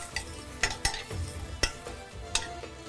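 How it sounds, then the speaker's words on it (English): Lamb pieces seared in a pot for Moroccan harira soup, stirred with a utensil that knocks and scrapes several times over a continuous sizzle, close and alone. "We just need to mix it a little bit so it's seared from all sides."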